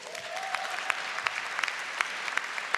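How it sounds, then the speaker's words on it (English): An audience claps in an auditorium at a political convention forum: steady, dense applause from many hands, moderately distant and even throughout, with no talk over it. "Give him a round of applause."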